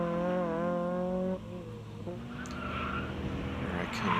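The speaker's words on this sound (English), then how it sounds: "Got my buddy Nick and his Tesla just squealing those tires." A Tesla pushed hard around an autocross course, its tires squealing through corners over a steady engine and road roar, loud and close, with a brief whine as the car shifts its line.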